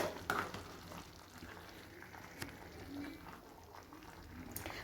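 Tomato rice in a pot, Karnataka-style tomato bath, bubbling at a steady simmer with soft sizzling and a few stirring knocks, quiet and continuous with no talking.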